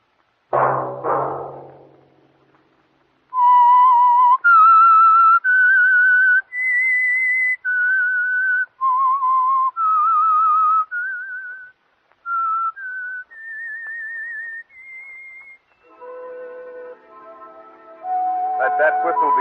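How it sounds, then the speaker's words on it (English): The theme of The Whistler radio program whistled as a clear solo melody of sustained, wavering notes, preceded by a brief burst of footsteps or noise and ending under a swelling orchestral chord. "Let that whistle be your signal for the Signal Oil program, The Whistler"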